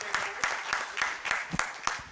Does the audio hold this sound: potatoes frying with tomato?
no